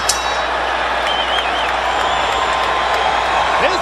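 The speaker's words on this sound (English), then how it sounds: "This crowd is excited now." A boxing arena crowd roars steadily at a Mayorga versus Forrest fight, a dense wall of cheering and whoops. It holds loud and unbroken, with a few faint whistles cutting through.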